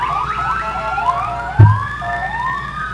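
A police car siren wails in rising and falling sweeps at a Fourth of July parade, fairly close, with a brief low thump partway through.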